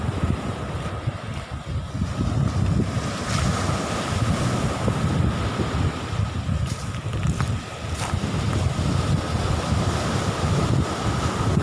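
Waves surge onto Nong Bua beach in a steady, loud wash of surf, with strong wind buffeting the microphone throughout and no voices.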